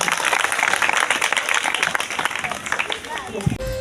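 Enthusiastic applause from an audience of students and guests at a school Dahi Handi celebration, dense and loud clapping throughout, with a voice speaking over it.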